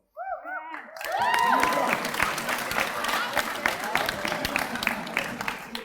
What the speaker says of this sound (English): You're allowed to clap yourself in that.